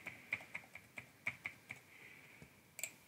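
A password is typed on a computer keyboard, a quiet run of light, uneven key clicks spaced across a few seconds with one small pause near the end.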